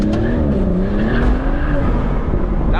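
A BMW 340i pulls hard at half throttle, its engine note rising steadily in pitch as it accelerates, loud and close from inside the car with a smooth, continuous drone and no talking.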